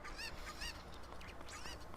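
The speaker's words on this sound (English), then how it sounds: "You can actually hear the chicken crying out." In Ocarina of Time 3D, a chicken trapped inside a box cries out, repeated squawking honks in quick succession over a constant game background hum, faint and muffled.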